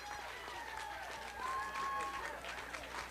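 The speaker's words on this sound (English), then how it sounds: "Just listen to this crowd." A large crowd gathered to greet arrivals cheers and claps in a continuous wash, heard from a distance and fairly faint, with a voice talking over it.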